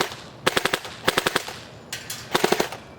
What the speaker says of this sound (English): I'm going to do a quick burst of fully auto